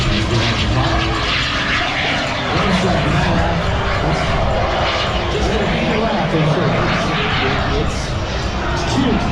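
An A-10 aircraft flying at an airshow, a loud, steady roar of jet engine noise holding throughout, with an announcer's voice and crowd murmur mixed underneath.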